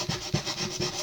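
Sandpaper rubbed by hand over a painted wooden side table in vintage style, three rhythmic back-and-forth strokes, close and fairly quiet, with no voices.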